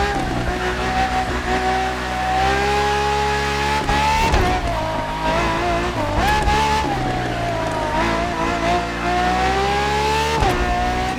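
Ferrari FXX-K supercar engine in the video game The Crew Motorfest, a loud, high-pitched howl that rises and falls with gear changes and brief dips, sustained and close.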